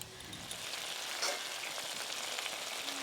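Fried bori lentil dumplings bubble in a leafy-green radish-leaf curry over a village clay stove, giving a soft, steady sizzling and bubbling crackle that continues at low volume for the whole stretch.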